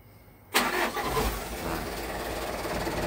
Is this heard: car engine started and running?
yes